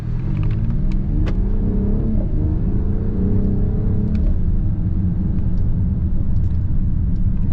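A 2023 Mercedes-AMG GLE 53 Coupe engine while driving, a continuous loud low rumble inside the car with engine tones climbing through revs and gear changes, no talk.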